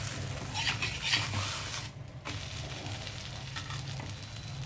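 Sago dosa cooks on a hot pan with a steady close sizzle, broken by a few light metallic scrapes and clinks of a spatula against the pan; no voices.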